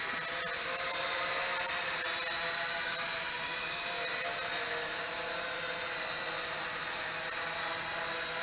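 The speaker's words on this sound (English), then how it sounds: "So, this is a spider drone." A spider drone hovers nearby with a constant high-pitched whirring whine of its propellers, steady and loud throughout without pauses.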